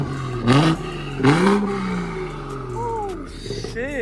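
A BMW 440i Gen 1 with a front mount intake revs in two sharp, loud bursts, the engine rising and falling close by while people talk and react around it.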